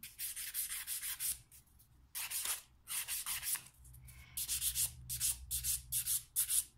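Nail being filed down by hand during nail prep, a steady rasping scrape in repeated back-and-forth strokes with short pauses between bursts, close and fairly soft, no talking.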